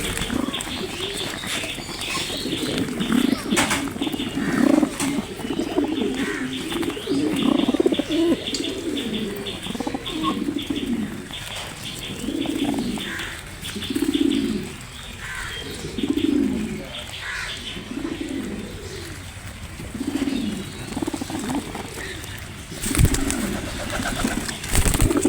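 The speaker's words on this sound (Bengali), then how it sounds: "দেখো তো কবুতরগুলো কি সুন্দর" Pigeons coo in repeated soft throaty rolls, close by, with occasional chirps and a faint wing flutter between calls.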